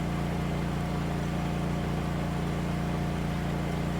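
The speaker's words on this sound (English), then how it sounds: "And the sound that this thing comes to with the tiller, I find it just sounds so much better." Small tractor engine from Farming Simulator 19 runs steadily with a tiller attached, a constant mid-low drone with a hum near and even, unbroken throughout and without talk.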